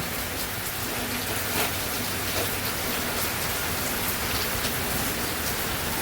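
Steady, heavy rain pours down in a dense, continuous hiss, with drops drumming on surfaces nearby and no voices.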